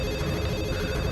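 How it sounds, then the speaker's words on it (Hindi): A telephone rings with a steady electronic tone, loud and continuous for a brief moment with no voices over it. "देखो किसका फोन।"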